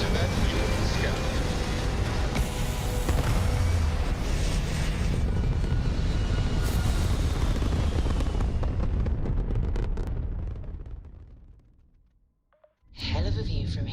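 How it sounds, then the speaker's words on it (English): A spaceship lifts off in the game Starfield with a loud, sustained rumbling roar of engines that cuts away near the end before a brief return. "Liftoff initiated, Captain."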